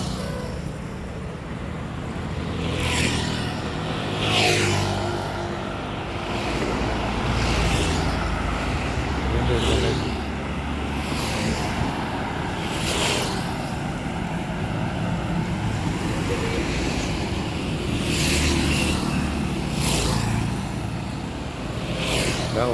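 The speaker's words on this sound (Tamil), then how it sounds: "மெயின் ரோட்டில் இன்னும் ஒரே காராக தான் இருக்கும்." Traffic on a main road heard from a moving vehicle, with a continuous engine and road rumble and several vehicles whooshing past one after another at moderate distance.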